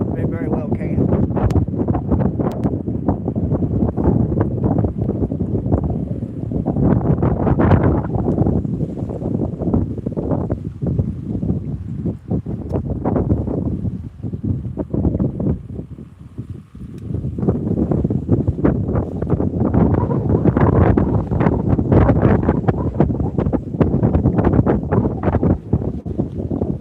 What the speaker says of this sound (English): I like to think the wind's not going to blow all day like this.